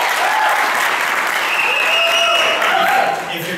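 Steady applause from a church crowd, a dense wash of clapping that holds for a few seconds, with a voice faintly heard over it.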